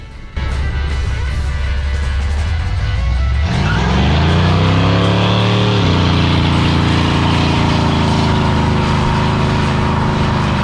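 A 1969 Chevy Nova V8 idles with a deep rumble, then roars as it is revved hard during a tire-smoking burnout, the engine pitch climbing and holding at a loud, sustained high-rpm wail close by.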